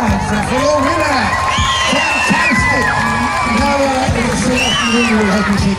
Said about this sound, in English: Applause for your winner.